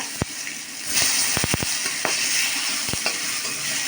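Chopped tomato goes into a hot pan with a few sharp knocks, then a steady sizzle rises and carries on with scattered taps of stirring, close and moderately loud, no speech.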